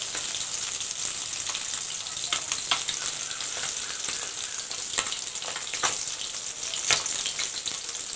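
Fish fry in a pan with a continuous crackling sizzle and scattered sharper pops, steady and fairly soft throughout with no talking.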